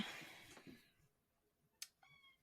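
A house cat meowing a couple of times, faint and fairly close, short bright calls after some fading talk in a quiet room.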